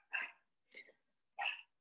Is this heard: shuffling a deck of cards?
no